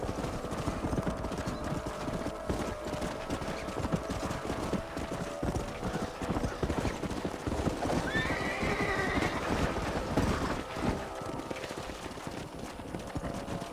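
Hooves clip-clop steadily from horses in Red Dead Redemption, a dense continuous trotting rhythm with a horse neighing partway through, up close and prominent over the game's background sound.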